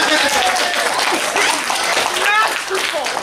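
A convention panel audience at an anime event breaks into applause, a dense wash of clapping that runs steadily throughout with some voices mixed in.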